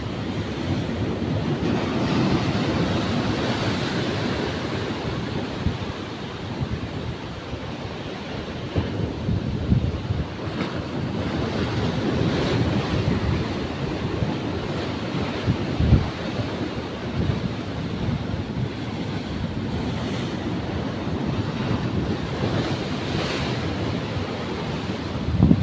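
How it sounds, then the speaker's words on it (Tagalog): Heavy ocean surf roars continuously on a fishing outing, waves crashing and rumbling with steady wind noise throughout. "Grabe lakas ng alon."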